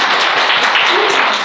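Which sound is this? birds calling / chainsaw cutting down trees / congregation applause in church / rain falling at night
congregation applause in church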